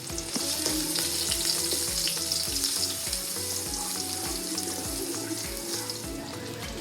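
Garlic sautés in hot cooking oil in a pan for ground pork with potatoes: a continuous crackling sizzle with regular, repeated scraping strokes, close and moderately loud.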